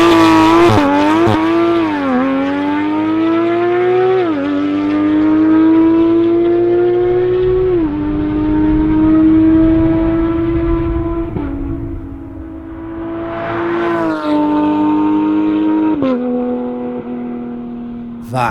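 A Porsche 991.2 GT3 RS with straight pipes accelerates hard, its loud, piercing flat-six howl climbing through several gears with sharp drops at each upshift, easing off briefly before revving again near the end.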